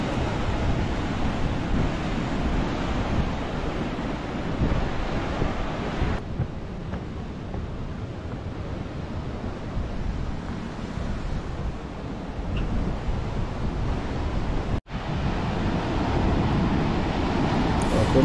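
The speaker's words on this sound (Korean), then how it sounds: "어제보다 오늘이 바람도 더 세고 파도도 더 높습니다." Strong wind roars steadily across the microphone over heavy surf pounding the Igidae coastal walk path the day after Typhoon Nanmadol, a continuous loud wash of waves and gusts with no talking.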